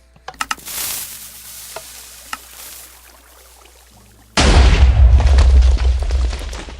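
A Minecraft TNT hybrid cannon fires with a few sharp pops and a muffled sizzle, then a loud, rumbling explosion erupts and keeps crackling heavily until the end.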